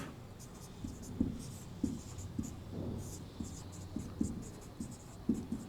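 Chalk or marker strokes on a board during a geography lecture in Hindi, a steady series of short scratchy taps and scrapes at close range, mostly alone with faint room background.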